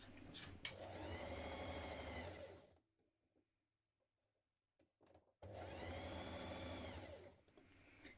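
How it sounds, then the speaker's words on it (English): Two bursts of sewing machine stitching join a dress facing to the bodice, each a loud, steady, rapid whir lasting a few seconds, separated by a near-silent pause with faint handling clicks. "Now we're going to stitch that in place."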